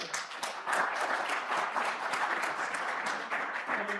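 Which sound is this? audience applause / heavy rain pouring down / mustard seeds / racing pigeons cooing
audience applause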